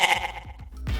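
A goat bleats in a single close, loud, wavering cry, heard alone.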